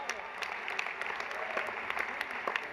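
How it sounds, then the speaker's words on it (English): Audience applause at the 2024 Al Smith charity dinner, a steady wash of clapping from a large seated crowd in a banquet hall, with scattered sharper claps rising above it and a faint murmur of voices underneath. "Can we have a round of applause for Chuck Schumer?"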